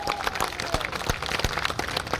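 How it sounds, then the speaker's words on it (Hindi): Loud applause from employees assembled at a rally in Delhi: a continuous wash of crowd clapping with individual sharper claps standing out, steady throughout. "जोरदार तालियों के साथ।"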